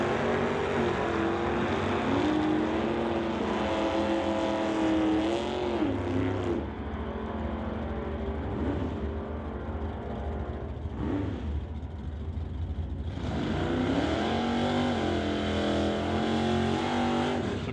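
At an NHRA Summit ET Series drag race, a 79 Malibu wagon and a white Valiant make a loud, continuous engine roar. The revs sweep up and down, dip briefly in the middle, then surge again.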